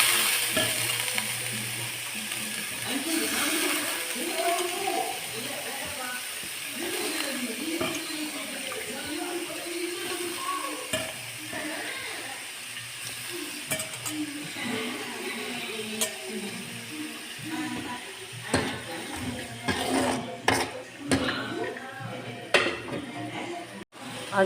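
Beans and carrots fry with softened onion in a pan, giving a steady low sizzle with occasional stirring scrapes and utensil clinks throughout, fairly quiet and close.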